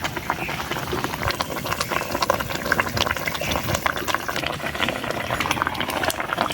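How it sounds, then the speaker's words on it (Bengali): Curry gravy bubbles at a full boil in a pan, a dense, close, continuous popping and blurping that stays at steady loudness throughout with no voices. "তো ঝোলটা পুরোপুরি ফুটে গেছে।"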